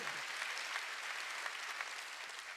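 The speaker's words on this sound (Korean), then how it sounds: "박수야." A church congregation at a Wednesday worship service claps in a continuous, even wash of applause, faint and distant-sounding, with no voices standing out.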